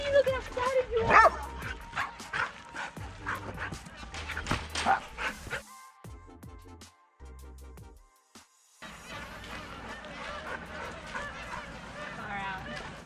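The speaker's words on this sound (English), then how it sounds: "Doggy, doggy! Look how excited you are!" An excited dog barks and yips in quick repeated bursts near a trophy truck being wrapped, with whimpering notes mixed in and a person talking over the noise before a quieter stretch.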